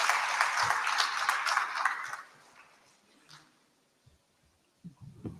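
Conference audience applause swells loudly for about two seconds, then fades out, leaving a quiet room with faint shuffles and a few low sounds at the end.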